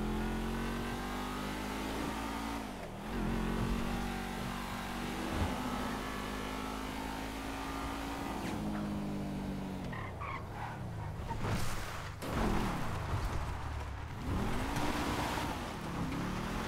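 A Mitsubishi car drives in a GTA role-play game, its mid-pitched engine revving and rising through gear changes, dropping and climbing again in repeated sweeps, with some rough bumps near the end.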